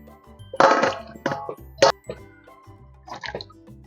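Hollowed spiny gourds (kakrol) rinsed in a bowl of water: scattered splashes and sloshing with light clinks of the vessel, in short uneven bursts close by, with no speech.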